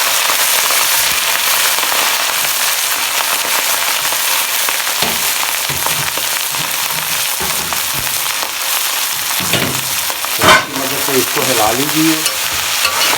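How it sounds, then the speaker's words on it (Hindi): Rice sizzles and crackles loudly in a hot pan while being fried for sweet jaggery rice (gur wale chawal), with stirring scrapes and clatters toward the end and a brief word spoken over it. "ये थोड़े से चावल फ्राई हो जाएंगे इंशाल्लाह"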